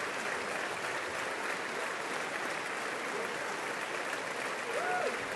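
A large crowd in the U.S. Congress applauds a speaker with dense, sustained clapping and cheering, heard at a distance.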